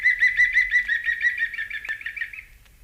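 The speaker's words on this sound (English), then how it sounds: "that was made in Sussex in the month of April, the green woodpecker" A green woodpecker gives its yaffling call in Sussex in April: a quick run of loud, ringing laughing notes about two and a half seconds long that gradually fades, heard alone.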